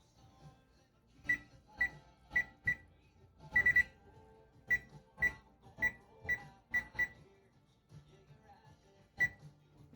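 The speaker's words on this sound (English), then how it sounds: "we're gonna put the timer on for 1 minute" A kitchen timer is set for one minute while strawberry jam is made, giving a quick series of sharp electronic beeps from button presses, fairly close and clear in an otherwise quiet kitchen.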